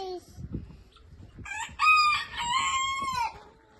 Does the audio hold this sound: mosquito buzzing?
no